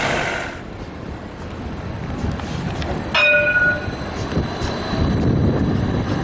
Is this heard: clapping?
no